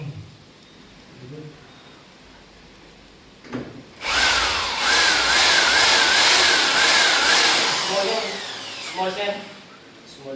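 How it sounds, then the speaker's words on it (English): Power drill boring holes into PVC ceiling starter track, a brief burst followed by a long, loud whirring run of about four seconds that winds down, with voices talking quietly before and after. "You need to drill one, rivet it, and then drill the other so it don't slide or make it get wavy."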